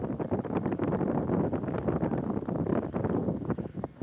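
Strong wind gusts across a stony hilltop and buffets the microphone, giving a continuous loud, rough roar with no one speaking.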